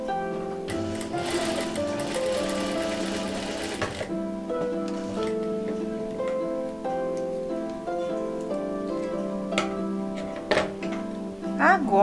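Sewing machine stitching a small square and strip of patchwork fabric, a steady close whirr for about four seconds, then quieter handling sounds while someone talks.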